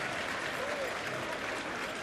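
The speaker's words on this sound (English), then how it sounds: "a standing ovation and a round of applause from the fans" Steady crowd applause and cheering from a large stadium audience at a football match, a standing ovation for a substituted player, a dense wash of clapping that holds at an even level throughout.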